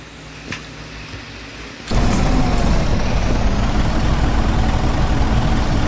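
A Ciferal Citmax bus engine in Proton Bus Simulator cranks into life partway through, then settles into a loud, deep, steady rumble.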